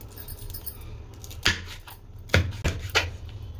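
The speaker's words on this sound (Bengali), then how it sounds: "আলুগুলো একটু ছোটো ছোটো করে কাটবো" A knife chops potatoes into small pieces, landing as a few crisp, separate cuts at an uneven pace, close and clear with no talking.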